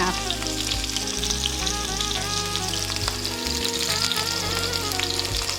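An ahi tuna steak searing in a pan on a stovetop, a constant crackling sizzle under a steady low hum and faint tonal background music.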